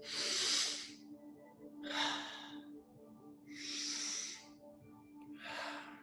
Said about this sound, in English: Belly rising on the inhales, falling on the exhales.